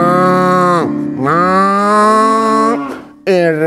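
A human voice imitates a cow's long, drawn-out moo in two sustained calls, loud and close, with a brief third call starting at the end.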